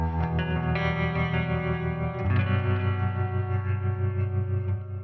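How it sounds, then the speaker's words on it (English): A clean electric guitar tone with tremolo runs through a Boss Katana MKII EX amp on its clean channel, sounding a shimmering, pulsing chord and a few notes that ring out steadily for several seconds without talk. "This is basically a clean sound that I created for electric guitar"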